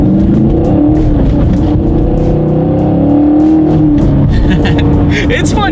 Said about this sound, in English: that exhaust crackle at the end there